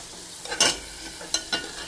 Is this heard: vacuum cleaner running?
no